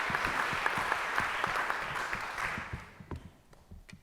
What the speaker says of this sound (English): a big round of applause for Naomi